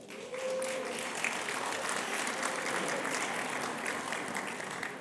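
Steady applause fills a Washington Institute event honoring Joan Kahn, Michael Hayden and George Tenet, many hands clapping in a dense, even wash that holds at one level for about five seconds with no talk over it.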